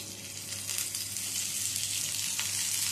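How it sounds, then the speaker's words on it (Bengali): Pointed gourd pieces frying in oil in a pan for a vegetarian dish, giving a steady close sizzling hiss that holds evenly throughout without any talking. "পটলটা একটু ভালো করে ভেজে নেব। পটলগুলো একটু উল্টে পাল্টে নিচ্ছি।"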